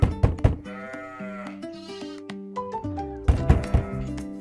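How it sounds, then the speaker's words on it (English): Sheep on a farm bleat in short wavering calls, near and clear, over a bouncy background tune with thumping beats and no talk. "It's a sheep."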